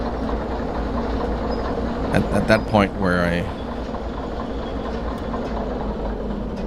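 A train in the Derail Valley video game rumbles along at a steady, even level, and someone speaks briefly over the running noise.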